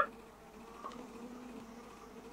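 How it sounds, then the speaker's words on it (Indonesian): Bees buzzing in the Gardenscapes mobile game, a faint, steady hum that runs under the whole stretch with no voices over it. "Oh, ada lebah."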